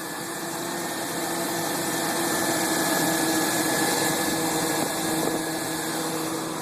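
A Chevy Silverado engine idling after valve cover gasket work, a steady mid-pitched hum with a faint fast ticking from the valves, close and unchanging, with no voices.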